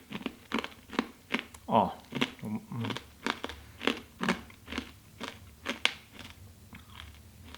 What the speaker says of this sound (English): It's a hard candy shell on the outside, so all right, it's time to crunch.